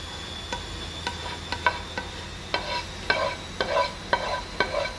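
Onions fry in a pan for homemade arancini, with a steady low sizzle broken by rhythmic, close scraping and stirring knocks, accompanied by a faint high insect-like chirr in the background.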